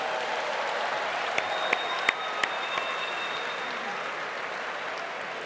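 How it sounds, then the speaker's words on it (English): A live audience gives a round of applause at an evening event, a steady wash of many hands clapping throughout at moderate level, with a few sharper isolated claps and a faint sustained tone running underneath. "Give your neighbor a round of applause."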